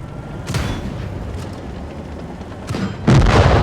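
A tank shell striking and penetrating an enemy tank in World of Tanks, heard as a few loud booming impacts, a burst near the start, another near the end, then a heavier blast at the close.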